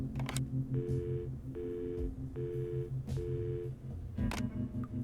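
In the video game 3 Minutes to Midnight, a telephone is dialed, giving a short series of evenly spaced, clear keypad tones alongside faint clicks, heard without any talking.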